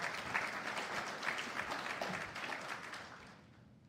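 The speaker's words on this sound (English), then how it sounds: "Let's give them a round of applause" Audience applause honoring volunteers at a community event, a steady dense wash of clapping that holds for several seconds and then thins and fades near the end.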